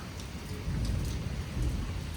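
Steady rain pours down with a low rumble of thunder and lightning underneath, briefly swelling in loudness.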